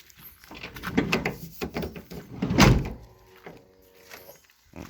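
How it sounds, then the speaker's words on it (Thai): Automatic sliding door on a VIP passenger van running through its cycle: a string of mechanical clunks and sliding rumbles, with a heavier thunk near the middle, close and fairly quiet, with no talking. "ประตูอัตโนมัตินะครับทำงานนะครับ"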